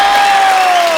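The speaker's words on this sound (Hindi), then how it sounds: "सो प्लीज आप सबकी जोरदार तालियों के बीच इनवाइट करना चाहूंगा the very beautiful Shilpa Shetty" Studio audience on a Hindi comedy talk show cheering and applauding loudly and continuously, a dense close wash of clapping and shouts for an arriving celebrity guest.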